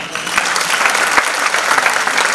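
Loud, dense applause from an audience at a stage drama performance, sustained without a break and close to the listener.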